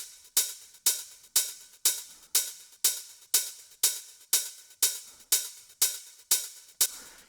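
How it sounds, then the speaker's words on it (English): Open hi-hats in an electronic drum pattern hit in a steady rhythm, about twelve bright sizzling strikes each ringing briefly before the next, with no talking. "all open hi-hats together sounds like this"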